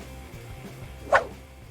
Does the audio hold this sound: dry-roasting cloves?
no